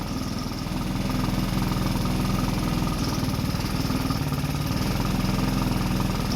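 A GY6 150cc engine in a UTV idles steadily nearby, putting out an even, rapid putter with a continuous low rumble and no talk.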